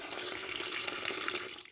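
Water gushing from an opened valve on a homemade 12V water heater, a continuous splashing flow at close range that tapers off at the end.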